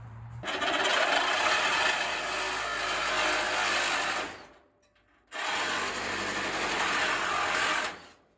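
A reciprocating saw cuts through material near a firewood storage setup of IBC totes, a loud, steady buzzing rasp in two long bursts separated by a brief pause.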